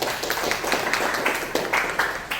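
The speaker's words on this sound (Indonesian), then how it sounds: "tepuk tangan dulu buat teman-teman" Students in a classroom clap for their classmates, a dense, steady stretch of many hands clapping at moderate loudness with no clear voices.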